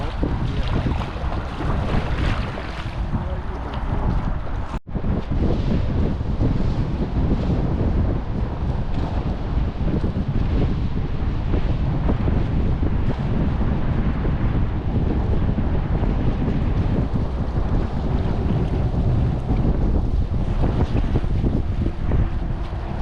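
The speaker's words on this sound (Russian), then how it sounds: "Шли мы против ветра." Strong wind buffeting a raft travelling upstream on the Msta river, a loud continuous roar of gusts and microphone noise that continues throughout with no speech.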